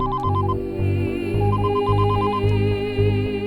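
A phone ringtone beeps in quick repeated bursts over a steady, loud musical background, with no talking.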